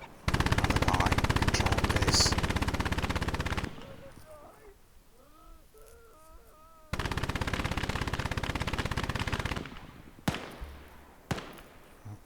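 Gunfire in Gates of Hell, a WWII strategy game: two long stretches of dense, rapid automatic bursts, loud and close, separated by a quieter gap of scattered tones, with a few sharp single shots near the end.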